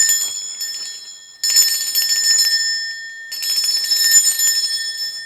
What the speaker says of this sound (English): So I'm going to be ringing this bell.